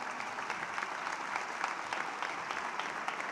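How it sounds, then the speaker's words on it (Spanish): A crowd at a town fair opening ceremony applauds a child prize winner with steady, even clapping heard from some distance. "Ese aplauso"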